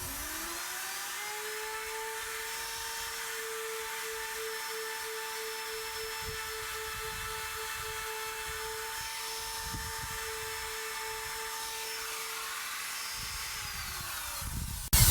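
Router with a carving bit cutting deep freehand into wood for large inset letters, a steady high whine running continuously and close before dropping off at the end, with no talk.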